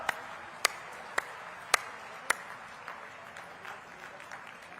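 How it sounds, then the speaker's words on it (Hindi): Crowd at a state-level Employment Day rally in Neemuch, Madhya Pradesh, welcoming the chief minister, with a few sharp, loud claps at regular intervals over a steady low murmur, fading into scattered softer claps. "मुख्यमंत्री शिवराज सिंह चौहान का जोरदार खड़े होकर ताली बजाकर स्वागत करें"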